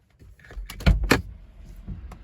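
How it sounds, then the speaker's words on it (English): Door of a 2014 Mercedes-Benz GLK250 Bluetec opening and then shutting, a couple of close mechanical clunks and latch thumps with a soft rattle and quieter handling noise afterward. "open and close the door"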